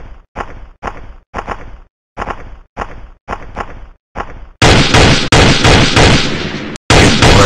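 Sniper and gunfire in the online FPS game Special Ops Online, a run of eight sharp, evenly spaced single shots followed by two long, loud, dense bursts of fire.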